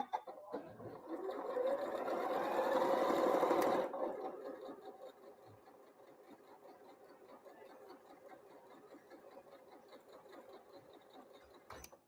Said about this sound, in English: we're going to sew that 1/4 inch right along there